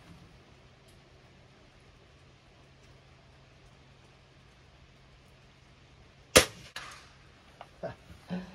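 An air rifle fired from a rested bag outdoors, one sharp crack after a long quiet stretch of faint background noise, followed by a few softer knocks and rustles as it is handled.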